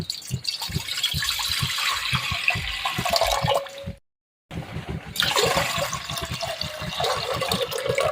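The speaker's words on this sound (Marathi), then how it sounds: "याच्यामध्ये आता आपल्याला पाणी टाकायचंय" Water gushes steadily into a metal pot for cooking amla murabba, pauses briefly, then pours again with a loud splashing, filling sound.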